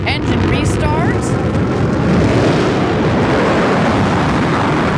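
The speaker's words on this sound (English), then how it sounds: "we're going to get the BE3 engine to restart" The BE3 rocket engine of a New Shepard booster restarts for landing, a loud, continuous roaring rumble that holds steady throughout while people talk over it.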